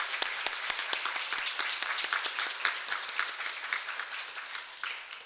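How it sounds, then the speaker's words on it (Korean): Congregation clapping in thanks during a New Year's Eve church worship service, a steady round of applause with distinct sharp claps that softens slightly near the end. "감사의 박수를 돌리겠습니다."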